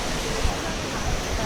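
Tat Kuang Si waterfall near Luang Prabang gives a steady, even roar of falling water, moderately loud with no breaks, heard briefly on its own.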